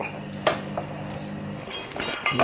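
A spoon scrapes and clinks against a pan while fish curry with chili powder is stirred, a few short metallic knocks close by over a low steady background.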